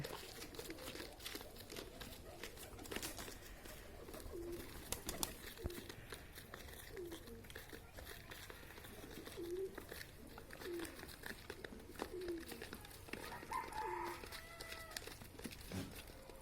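A breeding pair of pigeons coos in a loft, soft low coos repeating every second or two at moderate distance over a steady background hum, with someone talking faintly throughout.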